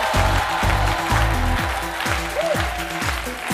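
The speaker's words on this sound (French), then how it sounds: "Son nom, c'est Sanou Aboubakar, que je vous demande d'applaudir." Studio audience applauds on the set of a French-language midday TV talk show, steady clapping mixed with a loud rhythmic musical jingle throughout.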